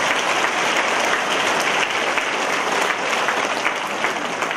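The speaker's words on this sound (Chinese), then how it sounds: "请鼓掌。" An audience claps together in a dense, sustained burst of applause, loud and even from start to finish with no voices standing out.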